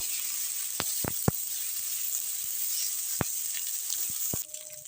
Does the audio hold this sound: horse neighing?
no